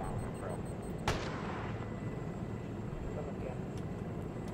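A single sharp gunshot at enemy artillery in Arma 3, loud and sudden, standing out against steady low rumbling battlefield ambience, with a faint voice now and then.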